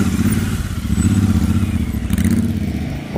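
A Royal Enfield Himalayan 450 motorcycle rides off on a trip toward Shimla, its engine a steady, close, rumbling drone with mild clatter that holds throughout.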